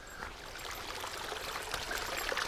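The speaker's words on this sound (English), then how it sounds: "there's water source just right there, flowing really well" A mountain stream beside a backpacking trail flows steadily, a continuous close splashing and gurgling rush of water with no voices.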